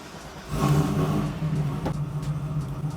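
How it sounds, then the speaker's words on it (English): An LS9-engined car fires up on a dyno, its engine catching about half a second in and settling into a steady, loud idle with a low drone up close. "So we're gonna start the car up."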